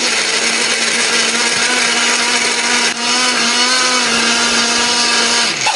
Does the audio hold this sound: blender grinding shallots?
yes